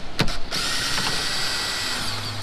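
A cordless power drill or driver whirs steadily up close, spinning out 10 mm bolts from a car's brake light housing during an LED bulb install, a short burst after a few clicks of the tool.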